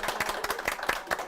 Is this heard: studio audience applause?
yes